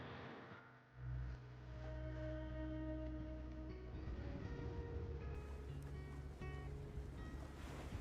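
Ocean waves surge and wash steadily around a sailing boat at sea in the Will Follow the Light game trailer, a low continuous rush of water under faint music, fairly quiet throughout.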